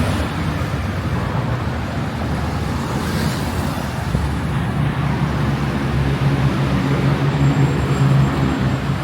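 Steady street traffic in Bangkok, mostly Japanese cars, gives a continuous loud roar of engines and tyres passing close by, with no talking.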